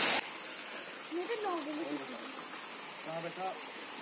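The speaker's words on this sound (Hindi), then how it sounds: "हमारे आते ही मौसम देखो, तेज बारिश होगी" Heavy rain falls on a village lane with water running down it, making a steady hiss. A voice speaks over the rain at a few points.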